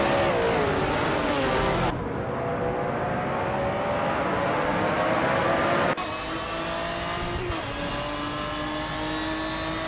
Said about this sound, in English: Bot Ronnie Rampage is driving a 2004 Chevrolet Corvette C5